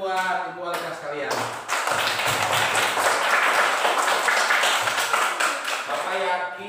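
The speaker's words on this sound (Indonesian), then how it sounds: "tepuk tangan atuh buat Ibu wali kelas kalian" A school class claps for their homeroom teacher, Ibu Heni, a dense burst of many hands applauding that swells quickly and holds strong before tapering off, with a voice speaking at the start and end.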